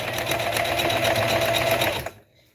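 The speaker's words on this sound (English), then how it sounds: "put my presser foot down, line it up. I'm sewing towards the edge" A sewing machine stitches toward the edge of a tote bag made from Dollar Tree placemats, running in a steady, close, continuous whir for about two seconds before stopping abruptly.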